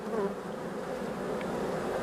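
Honeybees buzz continuously, a dense steady hum of many insects close by, no voices.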